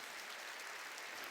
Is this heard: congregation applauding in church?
yes